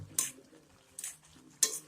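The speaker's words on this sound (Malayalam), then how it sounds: "നന്നായി ഇളക്കി കൊടുക്കുക." A spoon stirring olan, a Kerala curry cooked with coconut oil, in a pot: three sharp scraping clinks spaced evenly apart with quiet cooking noise between them.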